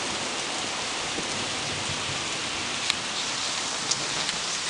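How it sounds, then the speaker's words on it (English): Heavy pouring rain recorded from a front porch during a thunderstorm, a steady dense hiss of downpour with a couple of brief sharp drips or splashes near the end, no voices. "It's pouring rain here."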